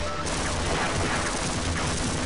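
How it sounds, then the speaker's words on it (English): An automated turret in Half-Life fires rapid, continuous bursts at enemies, loud and close, with dense shots packed over the full stretch and no talk. "So if you crouch here, you can see the turret does work on the enemies."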